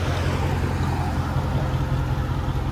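A Mercedes E55 AMG sits idling close by, its engine and exhaust giving a steady, deep, even rumble with no variation or voices over the short stretch.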